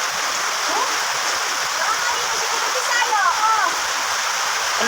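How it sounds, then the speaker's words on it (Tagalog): Floodwater from a swollen river rushes in a loud, steady wash that fills the whole stretch, with voices and faint high calls over the top. "Nanonood sila ng baha kasi mataas na ang tubig."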